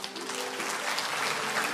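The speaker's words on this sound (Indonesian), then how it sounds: "kasih tepuk tangan untuk Tuhan." A church congregation applauds during a sermon with a steady, dense wash of many hands clapping, evenly loud throughout with no voices standing out.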